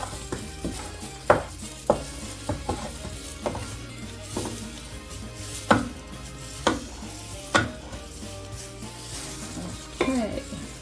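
Flour is stirred into the liquid for a Jamaican Christmas cake batter, with a utensil knocking and scraping against the bowl in uneven, close taps over a steady background.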